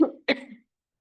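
Two quick, dry coughs close up, one right after the other, followed by silence.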